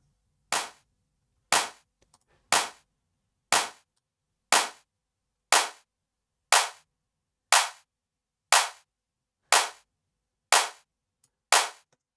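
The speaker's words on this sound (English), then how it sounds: "I want to be able to hear that clap a little bit further down into the mid-range." A clap drum sample from a melodic techno track, struck alone eleven times at an even one-per-second pulse, each hit a sharp, bright crack with a quick decay and no other sounds between.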